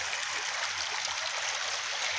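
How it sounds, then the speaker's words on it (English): McDougall Creek in West Kelowna flows with a steady, broad rushing and burbling of water, close and continuous throughout with no voices. "Beautiful creek right here."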